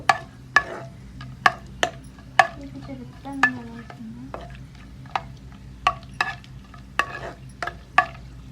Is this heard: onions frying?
yes